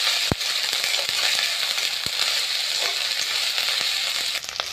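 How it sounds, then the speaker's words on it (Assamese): Ginger and garlic fry in oil alongside browned onions in a pan for an Assamese mustard-seed drumstick curry, giving a steady close sizzle broken by a few sharp crackling pops. "আদা নহৰুখিনি ধুনীয়াকৈ ভাজি লৈছোঁ মই"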